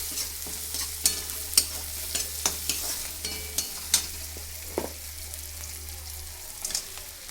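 Onion, tomato and green chili sizzle steadily in a pan while being stir-fried, with repeated close spoon clicks and scrapes over a constant low hum, no talking.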